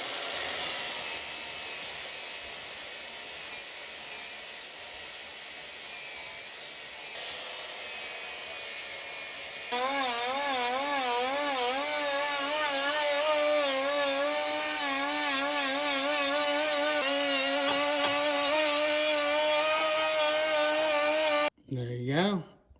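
A hole is cut by hand through a panel on a turbocharged CFMOTO UForce 1000 side-by-side, heard as a rasping scraping that shifts into a faster rhythmic sawing stroke, close and steady, then stops abruptly.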